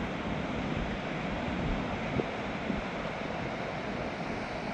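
High-tide waves wash steadily onto Towan Beach in Newquay, Cornwall, a continuous broad roar of surf mixed with wind buffeting the microphone and no voices.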